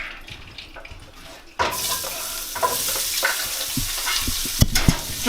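Roughly chopped onions hit a hot pan that already holds bacon fat. A sudden loud, steady sizzle breaks out and keeps going, with scattered clicks and scrapes from stirring.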